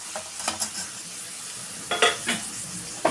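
Onion and tomato sautéing in a pan for Chettinad mutton curry, a constant sizzle with a few sharp scrapes and clinks of a spoon against the metal.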